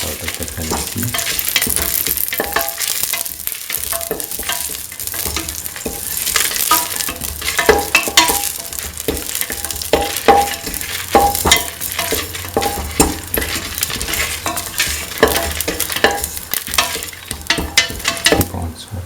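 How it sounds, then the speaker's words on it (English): Fennel seeds and red chillies sautéing in a pan: a loud, continuous sizzle and crackle with irregular scraping and stirring clatter throughout, no voices. "Keep on sauteing."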